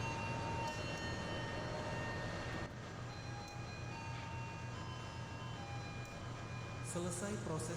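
The KA 402 Dhoho commuter train departing in the Trainz simulator game, a steady low rumble with a faint whine and a slight change partway through, running without pause, with someone speaking over the start.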